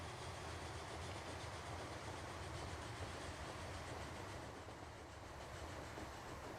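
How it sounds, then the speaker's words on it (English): A freight train rolls along rails in the video game Transport Fever 2, a continuous rumbling clatter of wagons at steady volume with no talk over it. "the freight train can actually just go through."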